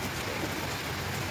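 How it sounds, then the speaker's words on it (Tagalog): Steady heavy rain hisses and patters continuously over a market, a dense even downpour with no voices. "Grabe lakas ng ulan dito sa market guys."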